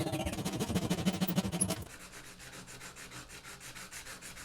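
A wooden wedge for a vintage Plumb axe is sanded by hand in quick rhythmic back-and-forth strokes, louder at first and then lighter and steadier, close up with no speech.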